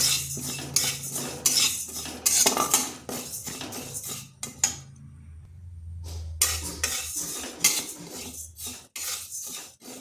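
Moong dal is dry-roasted lightly in a pan and stirred, with repeated loud metallic clinks and scrapes of a spoon against the pan, a brief pause midway, then more stirring.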